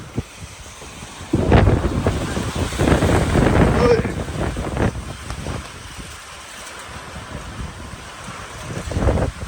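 Low rumbling thunder rolls through heavy wind and rain buffeting the microphone, with voices talking in between.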